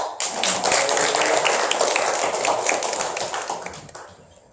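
A church congregation claps for a deacon during a Sunday service, giving steady, dense applause from many hands in a reverberant hall that holds for several seconds and then fades away.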